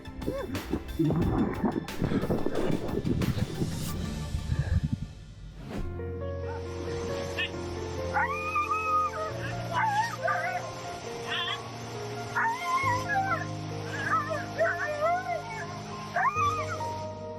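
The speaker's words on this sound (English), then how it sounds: "It hurts to hear the crying from this poor dog when he couldn't swim against the extreme water flow" A dog caught in a strong, extreme water current cries out. Rushing water gives way to a series of high, wavering whimpers and whines repeating over background music.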